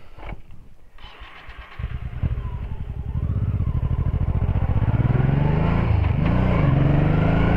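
Motorcycle engine rising from a low idle into a steady, loud revving pull, with a brief throttle blip and dip near the end as it downshifts under braking.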